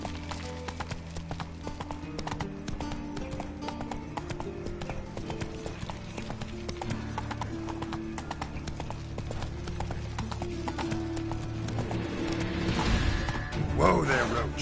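Horse hooves clip-clopping at a steady galloping rhythm in the video game The Witcher 3, continuous and fairly close, layered over game ambience with a short whinny-like rise near the end.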